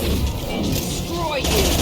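Gunfire rattles through a Mass Effect Legendary Edition firefight, a dense mix of blasts and energy-weapon zips under loud combat noise, with brief overlapping game dialogue.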